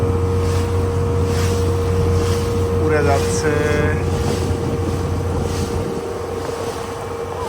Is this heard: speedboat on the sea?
yes